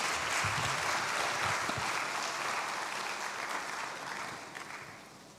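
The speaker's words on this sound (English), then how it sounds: "A round of applause." Audience applause at a startup showcase opening ceremony, a steady dense roar of many hands clapping that holds loud, then gradually fades toward the end.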